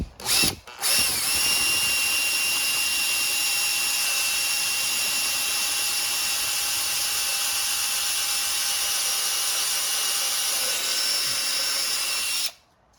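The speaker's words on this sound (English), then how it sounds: "Use a little pilot bit first." A power drill with a small pilot bit bores into a bicycle frame in a garage, whining loudly and steadily for about twelve seconds after a brief start-stop burst, then cutting off abruptly.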